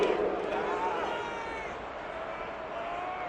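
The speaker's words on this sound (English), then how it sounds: "this crowd does not like that call" A virtual stadium crowd in the Madden NFL 22 football game reacts to a penalty call during a Titans vs. Rams match. The loud, disapproving roar is strongest at the start and eases off steadily.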